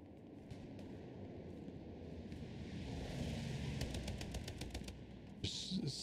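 Gunfire in the Hell Let Loose video game, a player spraying a bush with sustained fire during a competitive match; a steady rolling wash of shots with sharper bursts toward the end, no voices.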